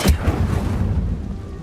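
Incendio fire spell from Hogwarts Legacy going off as a deep, booming fiery blast. A sharp thump starts it, then a rolling low rumble fades over a second or so.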